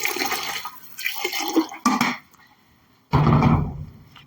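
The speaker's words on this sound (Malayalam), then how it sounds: "നമുക്ക് 1/2 ലിറ്റർ വെള്ളം കൂടി ഒഴിക്കാം" About half a litre of water is poured into a pot of goat head curry, heard as loud splashing gushes broken by short pauses.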